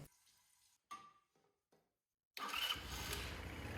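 A 150cc GY6 Chinese scooter engine cranks in a few short bursts, then catches and runs steadily with a loud, close buzzing idle.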